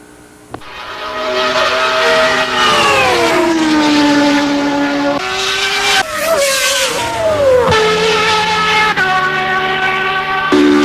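A 1993 Acura Integra with a dual overhead cam engine revs and pulls away loudly up close, its pitch rising and falling through gear changes for about ten seconds with no talk over it.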